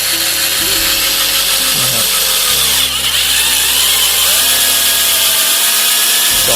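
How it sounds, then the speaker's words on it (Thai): A hole punch tool bores into a PVC water pipe for drip irrigation, giving a loud continuous grinding whine with shifting pitch that drops and rises as the cutter bites, close and filling the whole stretch. "ตัวหูซอตัวนี้นะครับ ก็มันสามารถทำการเจาะท่อ PVC ได้นะครับ"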